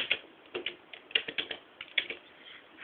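Typing on a computer keyboard, a quiet, close run of irregular key clicks and taps with short pauses between them.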